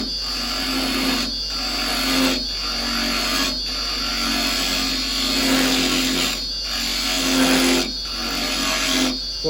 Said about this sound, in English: I'm going to clear some of this out just with the round chisel